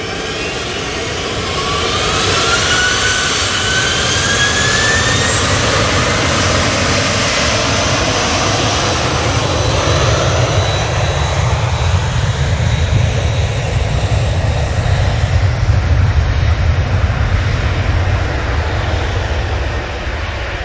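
A Virgin Atlantic jet airliner passes head-on with a loud, sustained engine roar that swells and holds for the full stretch, broadband and close, with no talk over it.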